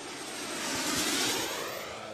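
A radio-controlled model jet airplane streaks by in flight, its turbine whoosh swelling to a peak midway and then easing off as it passes at moderate distance.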